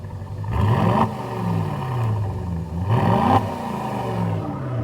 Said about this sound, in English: that full on exhaust mode, that's going to see the biggest difference